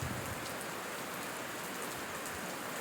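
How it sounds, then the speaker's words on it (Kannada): Steady rain patters on surfaces at Yediyur on its chariot festival day in a dense, even hiss that fills the whole clip, with no voices. "ನೋಡಿ ಮಳೆ ಬರ್ತೈತೆ"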